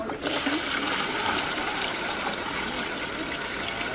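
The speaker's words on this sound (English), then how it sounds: "most toilets have little jets in it, so the swirl direction is determined by the design of the toilet" A toilet flushing, water rushing and swirling down the bowl through its rim jets, a steady loud gush that holds for the full few seconds with no voices over it.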